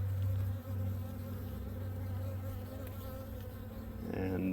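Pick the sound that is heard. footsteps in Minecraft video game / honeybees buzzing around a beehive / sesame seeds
honeybees buzzing around a beehive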